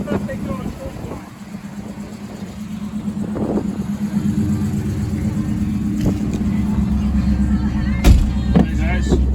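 A restored 1966 Ford Fairlane with functional ram air on the move, its steady engine drone and road rumble continuing for the whole stretch and rising slightly in level toward the end, with a brief louder burst near the finish.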